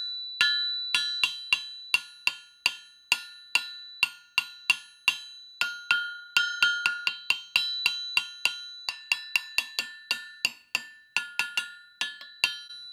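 An old anvil is struck with a hammer, dozens of sharp metallic blows in a steady, even rhythm, each one ringing bright and clear and decaying briefly before the next, loud and close with no talk.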